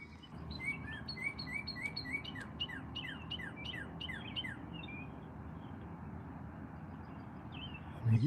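A bird sings a quick, repeated run of bright chirps at dawn over steady low rumbling, then the phrases fade into quieter background noise.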